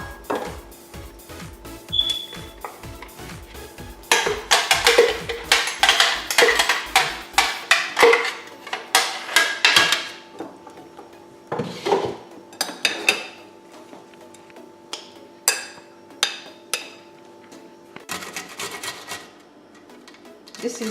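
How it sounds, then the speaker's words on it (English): Okra rubbed against a metal grater, a run of close scraping rasps and metallic clinks in uneven strokes, thinning to scattered scrapes and taps later. "This is how to grate if you are using a grater."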